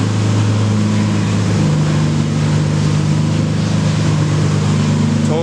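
Nissan 350Z engine running with a test pipe exhaust, a steady, loud, continuous drone with a slight pitch change near the end, heard up close and alone.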